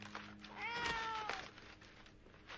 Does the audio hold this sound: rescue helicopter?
no